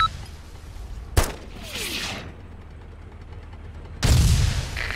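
Gunfire in the Arma 2 video game: a sharp single shot cracks out, followed by a softer whooshing burst, then a heavier blast arrives near the end, with quieter battlefield ambience between.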